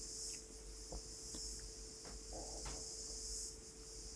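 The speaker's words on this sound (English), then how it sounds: "I can hear the sound of cicada getting bigger" A cicada sings steadily in a high, continuous buzzing drone, fairly faint and even throughout, with a few soft clicks and small rustles beneath it.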